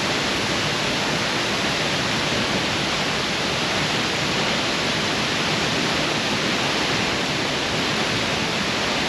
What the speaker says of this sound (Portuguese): Cachoeira do Mirandão,